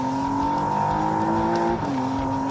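A car switched from sport into stiffer track mode pulls hard, its engine a loud steady drone that rises in pitch, then briefly dips as if shifting gear before climbing again, close and continuous.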